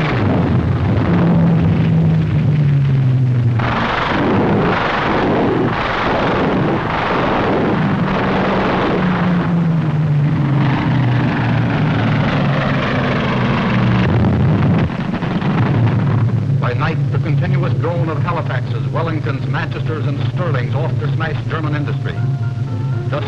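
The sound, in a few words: four-engine Lancaster bombers flying, WWII newsreel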